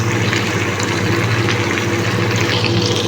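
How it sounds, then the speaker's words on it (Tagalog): A little water is poured into a pot of biryani, making a steady, loud splashing pour that runs throughout without pause. "Ayan guys, nilagyan lang natin ng konting tubig."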